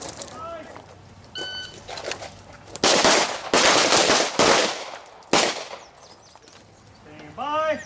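Pistol gunfire from nearby shooters at a range, several loud bursts of shots in the middle with scattered pops and other range noise before and after, a voice speaking in between.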